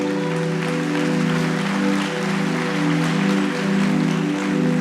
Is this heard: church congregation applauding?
yes